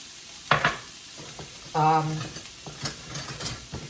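Chopped onion for a lentil loaf hitting a hot pan, with scraping stirs, light sizzling and a few clanks of utensils, and a short vocal-like tone in the middle.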